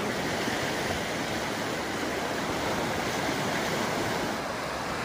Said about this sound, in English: this river is running fast